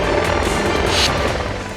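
Helicopter in flight from India's growing military fleet, alongside the Light Combat Helicopter built by Hindustan Aeronautics Limited; a loud, steady broadband roar with no pauses and no voices.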